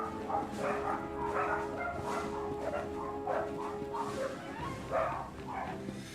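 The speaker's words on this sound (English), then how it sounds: "Ikrit, your dogs are going nuts" Dogs in the video game Star Wars: The Old Republic bark and yip in a rapid, excited series of mid-level yelps, with some whimpering, set against a low, steady background hum.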